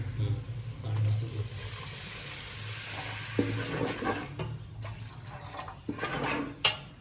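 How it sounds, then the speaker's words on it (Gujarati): Water is poured into a cooking pot of spiced pulses with chilli and masala in a tiffin-service kitchen, a steady close splashing pour near the start followed by clattering and stirring. "પાણી પણ નાખી દઈશું ને."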